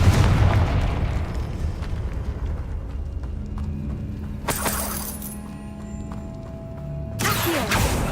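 A Confringo fire spell blast from Hogwarts Legacy bursts with a loud shattering boom at the start, decays into rumbling, then two further sharp crackling bursts follow later.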